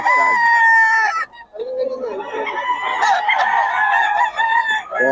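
A bull stag gamecock crows loudly and close in a cock-a-doodle-doo, then breaks off and crows again in a drawn-out, ragged call, with clucking and other fowl around it.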